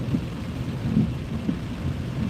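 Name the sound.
rain hitting car windshield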